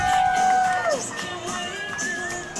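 A soccer stadium crowd cheers and whoops at an ABQ Sol FC versus OKC Energy U23 match. Smoke grenades burn on the far side, and a high whistle or horn tone rises over the sustained roar as a commentator talks.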